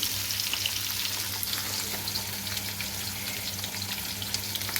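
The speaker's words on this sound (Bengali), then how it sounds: "আর এদিকে কার্পন ভাজাটা কষে দিয়েছি" Food fries in a kadai in a home kitchen, a continuous close crackling sizzle with faint stirring scrapes and no talking.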